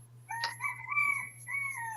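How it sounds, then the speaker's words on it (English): A rooster crows once, a clear, fairly close call rising and then held in a long drawn-out tone with a steady hum underneath. "Even the rooster agrees."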